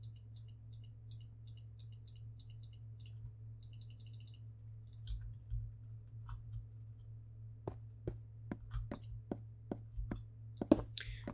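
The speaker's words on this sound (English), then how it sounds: "If you hear me clicking in the background, it's because in this version you can't just click and drag your items" Computer mouse clicks while old Minecraft is played: a run of sharp, evenly spaced clicks in the last few seconds over a steady low hum, with faint high ticking earlier on.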